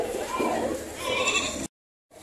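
A few goats bleat in wavering cries close by, with voices talking over them, then a brief silence before noise resumes.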